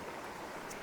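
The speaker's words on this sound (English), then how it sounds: "That waterfall, it's pretty bunched together and flowing pretty quickly" Small, tightly bunched waterfall at Hidden Falls near Canberra, Australia, flowing quickly, giving a steady close rush of water with no other sounds.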